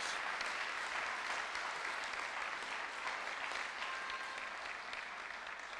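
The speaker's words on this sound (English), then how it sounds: "Let's give them another round of applause." Steady applause from a large audience at a graduation commencement ceremony, continuous and even throughout with no voices standing out.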